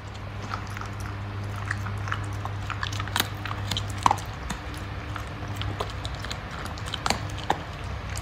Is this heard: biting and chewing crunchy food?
yes